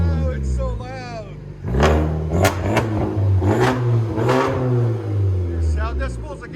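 A 2011 Kia Optima SX turbo engine with straight pipes revs loudly and nearby, rising and falling in several pulls from idle, while people talk over it.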